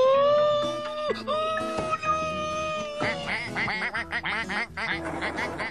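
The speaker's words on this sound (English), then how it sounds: "Hey, look! Ducks!" Two cartoon ducks in a children's animated show quack in bright, nasal, pitch-sliding calls, loud and close, mixed with a whimpering, voice-like cry and a faint music bed.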